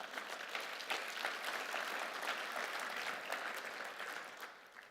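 Audience applause rises from a seminary crowd, a steady wash of many hands clapping, fairly distant and soft, sustained for several seconds before tapering slightly.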